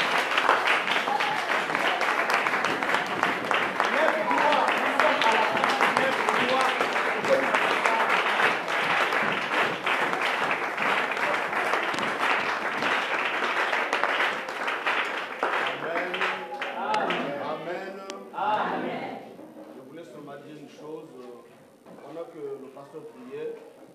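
Church congregation applauding together, a dense sustained clapping roar that fades after about fifteen seconds into scattered claps mixed with voices and talk.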